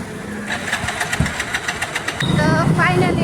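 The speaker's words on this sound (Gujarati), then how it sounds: "સોને બાઈક ચાલુ કરી નાખી જાય છે" A motorbike that had stalled is started at night: a few quick sputtering knocks, then the engine catches and settles into a steady louder idle, with people talking over it.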